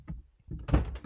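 Door of a homemade car racing sim cockpit being worked, giving a soft knock followed by a louder thudding clunk with a short rattle, close by and with no voices.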